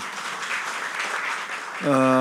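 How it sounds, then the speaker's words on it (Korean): An audience at a church social-mission panel discussion claps in a steady, moderately loud burst, and a tonal sound cuts in near the end. "제가 듣기에 박수 쳐드리죠 뭐"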